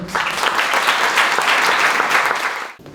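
Audience at a Paris tech event bursts into loud, sustained applause and crowd noise, holding for nearly three seconds before cutting off sharply.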